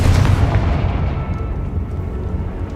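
A Confringo explosion spell in Hogwarts Legacy goes off as one loud, booming blast that rolls and fades into a low rumble over a few seconds.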